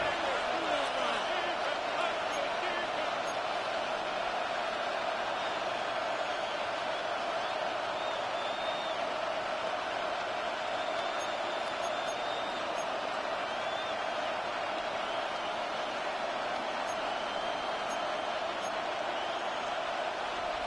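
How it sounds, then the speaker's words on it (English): A large American football stadium crowd roars steadily as a third down approaches, a constant loud wash of distant cheering with a play-by-play commentator talking over it. "This crowd into it now as we get to 3rd down."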